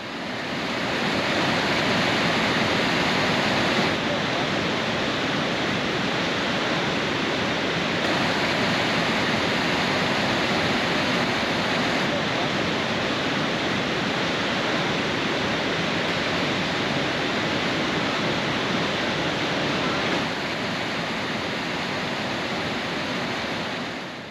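Yellowstone's waterfall roaring at the brink of the Upper and Lower Falls, a loud, unbroken wash of rushing water that holds steady throughout with no voices.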